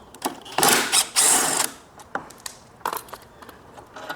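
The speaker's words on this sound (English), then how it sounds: "we're going to go ahead and remove this bolt here so we can adjust the handle to a lower position" Ratchet wrench working a half-inch nut to free the handle bolt on a Toro 60V Super Recycler mower, loud bursts of rapid clicking ratcheting alternating with shorter clicks and pauses, close up with no talk.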